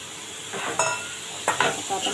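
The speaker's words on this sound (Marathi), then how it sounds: "आता आपण चांगलं परतून घेऊया" Soaked black-eyed peas sautéed in a pan for a masala curry sizzle softly while a spoon stirs them, giving two or three distinct scraping strokes close up.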